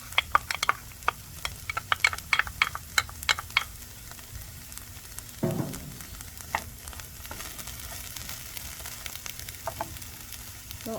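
Onion and garlic fry in a pan with a steady sizzle, broken by sharp crackles and the scrape of stirring, moderately close and with no talk.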